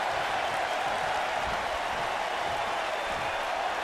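Arena crowd cheering in the WWE 2K19 wrestling game during an Alexa Bliss vs Dana Brooke match, a dense steady roar of cheers and applause holding level throughout with no clear speech.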